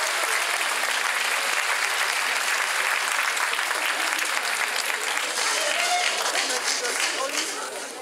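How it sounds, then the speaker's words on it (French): A dense, sustained round of applause fills the room at a talent show, with steady clapping from a full audience throughout before tapering slightly at the end. "Mesdames et messieurs, applaudissements s'il vous plaît"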